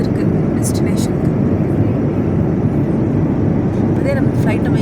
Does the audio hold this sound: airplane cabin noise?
yes